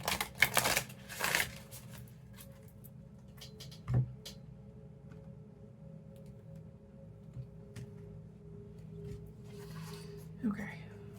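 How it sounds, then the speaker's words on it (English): A psychic oracle card deck is shuffled in a brief, riffling burst near the start, followed by a few soft taps and slides of cards during a tarot reading, faint and close. "I'm going to pull finally a couple of cards from the Psychic Oracle"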